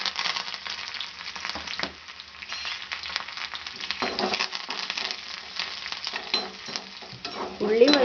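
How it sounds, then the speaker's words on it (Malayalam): Onion, dried red chilli and curry leaves fry in hot coconut oil with mustard seeds for a prawn and Chinese potato curry tempering, giving a steady close sizzle with stirring and a few utensil clinks near the end. "ഉള്ളി മൊരിഞ്ഞിട്ടുണ്ട്."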